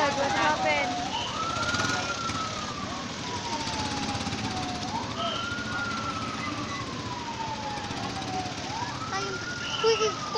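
An ambulance siren wailing near a tricycle and motorcycle accident scene in the Dumaguete area, a slow rising and falling tone repeating about three times over constant street noise, with people talking.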